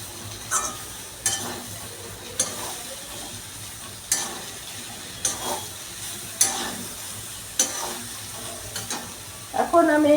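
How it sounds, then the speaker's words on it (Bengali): Spices fry for a cauliflower, carrot, potato and pea curry under a soft continuous sizzle, punctuated by regular scraping strokes of a spoon against the pan every second or so. "যতক্ষণ না মশলাটা ভাজা ভাজা হবে ততক্ষণ আমি নাড়তে থাকবো।"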